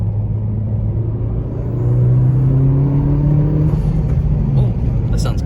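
A 2020 Honda Civic Si fitted with a PRL Cobra cold air intake revs close by, its engine rumble climbing in pitch, holding, then dropping back over a steady low drone.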